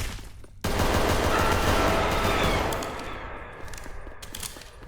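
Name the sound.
pistol gunfire in the Roblox video game Examination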